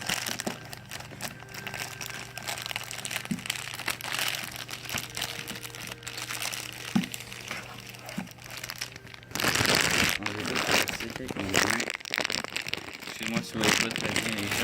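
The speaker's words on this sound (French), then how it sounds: "On va essayer de déballer ça sans maillonner le casque." Packaging of a new PlayStation headset crinkles and rustles in close bursts while being unboxed, with a louder, denser stretch of plastic crumpling toward the end.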